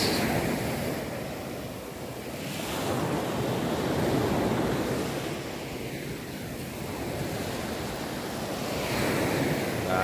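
Sea waves wash steadily onto the shore off Romblon, a continuous loud surf with gentle swells rising and falling and some wind noise throughout.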